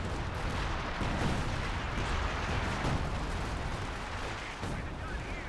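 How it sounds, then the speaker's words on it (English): A heavy artillery barrage rumbles in Company of Heroes 2, a continuous dense roll of booms and impacts, loud and close, with a voice talking over it. "major artillery comes down, finds its mark on some Axis units here"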